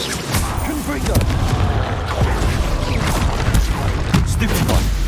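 Confringo fire spell blasts in Hogwarts Legacy combat on hard difficulty, a run of loud booming impacts and crackling bursts mixed with chaotic battle noise throughout.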